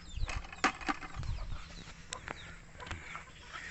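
Native chickens on a rural farm clucking, several short, irregular clucks and calls with some scuffling and wing noise, fairly quiet and close, with no speech.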